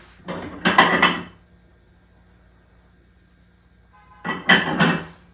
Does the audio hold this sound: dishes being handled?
yes